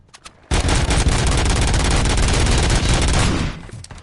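Full-automatic gunfire from RoboCop: Rogue City, a loud, unbroken burst lasting about three seconds after a brief quiet start, then cutting off abruptly.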